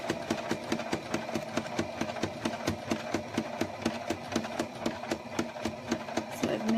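A sewing machine stitches a snowglobe mini quilt, running in a steady fast mechanical rhythm with regular clicks, close and moderately quiet, with no one talking.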